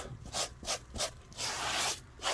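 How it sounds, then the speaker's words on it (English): A soft brush scrubs a dirty carpet floor mat with rhythmic back-and-forth swishing strokes, close and moderately loud, including one longer drawn-out rub, with no talking. "Take a carpet pad or a brush, any soft brush, and give it a little scrub."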